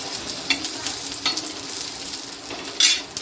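Spices and garlic fry in a pan for chicken chapati, a steady close sizzle with scraping stirs and a few sharper crackles, no voices.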